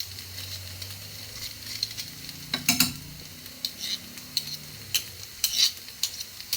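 Garlic fries and crackles in a pan of corned beef hash as it is stirred, a low sizzle broken by repeated sharp scraping stirs and clinks, close and fairly quiet.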